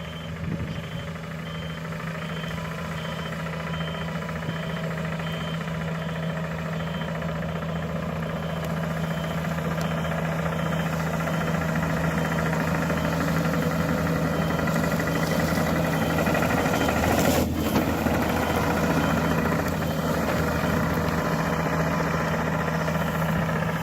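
Heavy machine engine rumbling steadily as it drives back and forth over gravel at a shop foundation site, a continuous loud drone with vibration and no pauses.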